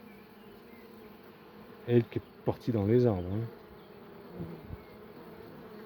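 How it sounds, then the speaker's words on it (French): An agitated, queenless honeybee swarm buzzes close by, with several loud wavering wingbeat drones swelling and fading over a steady hum, while a person speaks briefly. "Les abeilles sont complètement affolées, ça court dans tous les sens."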